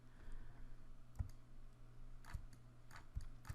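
Sparse mouse clicks at a computer while working in 3D character software, a handful of sharp, close taps spaced irregularly over a low steady hum, with no talking.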